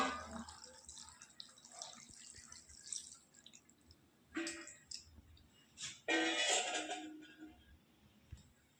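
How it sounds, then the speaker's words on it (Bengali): Water poured into a pan while cooking a fish curry (mourala fish chorchori), with dripping and splashing bursts that grow into a longer, louder pour near the end; no one speaks. "এবার দিয়ে দেবো পরিমাণ মতো জল।"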